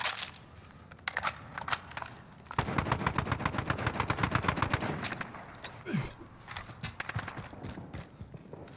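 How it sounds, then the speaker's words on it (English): Rapid automatic gunfire in Call of Duty Modern Warfare, a sustained burst of sharp close shots followed by scattered single cracks, loud against quieter game ambience. "someone's trying to shoot me"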